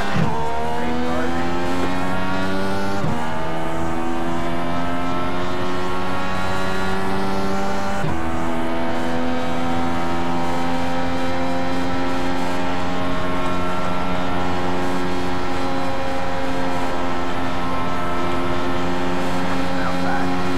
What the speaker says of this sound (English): Green flag, green flag. Race cars.